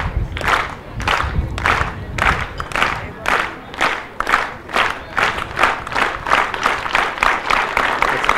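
At an athletics championship, the crowd claps in a steady rhythmic beat for a long jumper waiting on the runway, loud, even and sustained with no talk.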